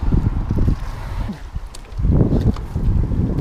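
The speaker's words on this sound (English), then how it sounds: "Oh God, it's windy." Strong wind buffets the microphone outdoors while fishing for pike in Finland, a loud broadband rumble that surges and eases in gusts, dipping briefly before roaring back.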